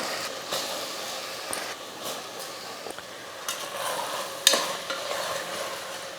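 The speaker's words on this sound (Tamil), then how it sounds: "அரிசி சேர்த்ததுக்கப்புறம் கலந்து விட்டுட்டு ஒரு நிமிஷத்துக்கு இந்த அரிசி வந்து நல்லா வதங்கட்டும்" Soaked basmati rice sautéing with masala in a pan, a continuous soft sizzle with repeated clicking and scraping stirring strokes, close and moderately loud with no talking.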